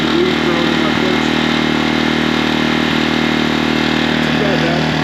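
A Harbor Freight Predator generator's gasoline engine runs steadily, heard from the exhaust-port side at the back as a loud, even, close-up drone that holds for the whole stretch without pauses.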